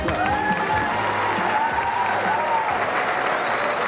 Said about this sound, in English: they're applauding a marvelous effort from our new champion, Walter Ray